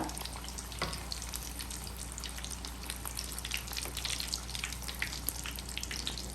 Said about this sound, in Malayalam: ഇതെടുത്തിട്ട് നമുക്ക് ബാക്കിയുള്ളതും കൂടെ പൊരിച്ചെടുക്കാം